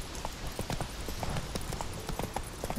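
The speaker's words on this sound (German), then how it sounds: "Ein Typ auf dem Pferd." Horse hooves clip-clop at a walking pace as a rider approaches in The Witcher 3, a steady stream of soft, close thuds over a low ambient bed.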